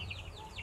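Broiler chickens about a month old cluck softly in a coop, a brief, steady murmur of several birds close by with a low hum underneath.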